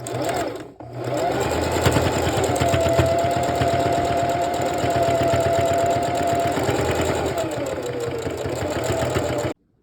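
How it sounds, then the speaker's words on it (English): A sewing machine runs steadily at speed, stitching closed the edge of an in-the-hoop embroidered zipper bag, with a rapid mechanical stitching rattle and motor hum, starting after a brief pause and stopping abruptly. "it's faster if I just close this up with my sewing machine"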